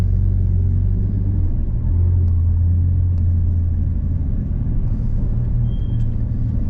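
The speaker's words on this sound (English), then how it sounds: "let's have some fun and see how much wheel spin we can get off this start line this time" Nissan 350Z launching off a sprint start line, a loud, steady low engine rumble running the whole time without a clear rev climb, no voices.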